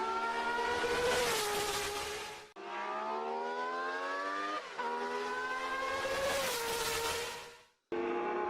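Historic 3-litre Formula One race cars from 1966 to 1985 scream past on a warm-up lap, loud high-revving engines rising and falling in pitch as they pass in succession, with brief gaps between cars.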